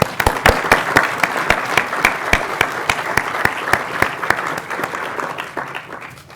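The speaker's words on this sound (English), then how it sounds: "Let's give ourselves a round of applause." An audience at a food justice summit keynote breaks into loud, sustained applause, many hands clapping close together in a dense, steady roar that tapers slightly toward the end.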